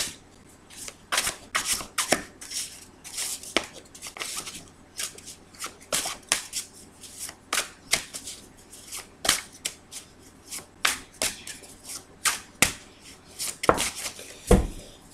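A deck of cards being shuffled and cut for a Capricorn tarot reading, a run of crisp riffling bursts and sharp slaps repeating irregularly throughout, close and clear with no talk.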